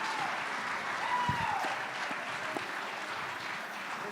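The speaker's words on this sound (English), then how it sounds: "Big round of applause for Jerry there" Audience applause at a Blues Hall of Fame induction ceremony, a steady wash of clapping from a crowd that holds at an even level throughout, with a faint voice briefly audible over it.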